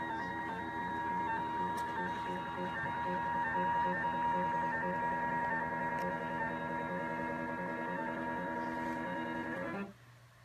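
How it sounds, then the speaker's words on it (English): A computerized quilting machine on the IQ system moves its needle across to the starting point, a steady whirring motor tone with a slight pulsing rhythm that runs for about ten seconds and then stops abruptly. "it's going to bring my machine needle all the way over there"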